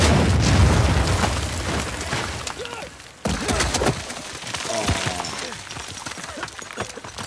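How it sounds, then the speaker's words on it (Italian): Heavy explosions and bursts of gunfire rumble and crack in Uncharted 4, a loud dense barrage with deep booms and a sudden cut to fresh blasts midway, a voice faintly underneath. "Guarda lì che botti, guarda lì che botti"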